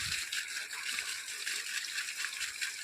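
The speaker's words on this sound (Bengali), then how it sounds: "বাইরের গাছে আগে জল দিয়ে দেবো" Water is poured onto outdoor potted plants in hot sunny weather, a steady close splashing gush with soft rattling patter into soil and leaves.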